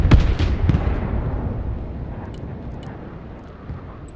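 Missile explosions in the real-time war game Broken Arrow: two loud, close blasts in quick succession at the start, then a long rumbling decay that fades over several seconds.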